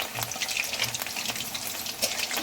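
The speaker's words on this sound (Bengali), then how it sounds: "পকোড়াগুলো ভেজে নেব যাতে উপরটাও যাতে পুড়ে না যায় ভেতরটা কাঁচা না থেকে যায়" Chicken pakoras deep-fry in oil over medium heat, a dense, continuous bubbling sizzle that stays even and fairly loud throughout, heard alone without any voices.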